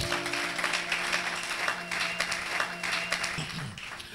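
A church congregation breaks into sustained applause, a dense wash of many hands clapping at mid distance that holds steady for several seconds before thinning, with a voice briefly heard near the end.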